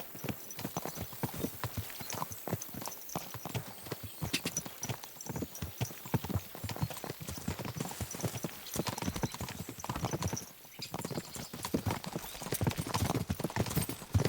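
Horse hooves clip-clop steadily in Kingdom Come: Deliverance 2, a dense, continuous trotting rhythm close up with faint background ambience and occasional voice.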